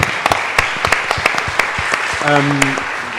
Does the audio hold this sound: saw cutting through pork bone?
no